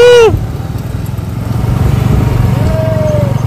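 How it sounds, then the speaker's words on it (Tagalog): A single motorcycle engine putters steadily and up close on a ride out to Poro Island, a low rhythmic drone with a brief whoop of voice at the start and a faint whistle-like tone later. "yung mga single na motor ang gagamitin papunta doon sa island"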